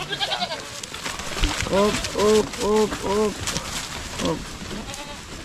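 A goat on a small farm kept alongside fattening cattle bleats in a quick run of four nasal calls near the middle, then once more, with a person speaking briefly and outdoor background noise throughout.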